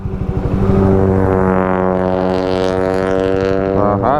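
A vehicle with a loud exhaust passes close by on the road, its deep rumbling drone rising quickly and holding steady and strong before a brief shift near the end.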